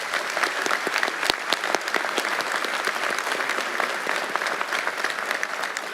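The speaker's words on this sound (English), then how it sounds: "if you can give him a round of applause" An audience at a graduation ceremony claps steadily for several seconds, a dense, even round of applause with occasional sharper individual claps standing out near the microphone.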